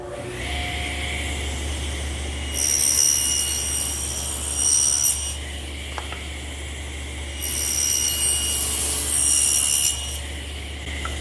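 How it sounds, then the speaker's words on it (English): A table saw cuts tongues into the ends of a wooden center stile for a blanket chest, its steady motor hum broken by two loud bursts of blade-on-wood cutting, close and with no voices. "I have to put a tongue in each end so that it'll fit in this groove that we've made for the panels. And I'll do that over here on the table saw."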